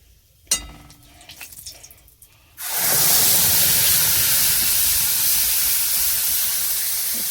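A ground paste of poppy seed, mustard, garlic, green chili and tomato drops into hot oil. Faint handling noises give way to a sudden loud sizzle that holds as a steady, close frying hiss.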